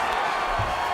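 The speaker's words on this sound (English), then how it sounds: "big pop from the crowd as they get back to their feet" A crowd cheering in EA Sports UFC 5 during a Charles Oliveira vs Raphael Assuncao fight, a loud broad roar sustained throughout as the fighters get back to their feet.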